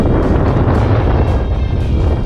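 Wind gusting over an open microphone while kokanee fishing from a boat at Flaming Gorge, a steady loud rumbling roar with buffeting surges and no talk.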